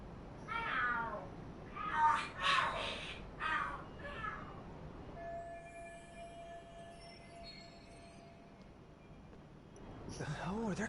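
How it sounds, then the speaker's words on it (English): Cats fight and screech in the Lost Judgment video game, with several loud, wavering yowls and caterwauls up close, then quieter game sounds with a faint tone before another screech rises at the end. "Are there cats fighting?"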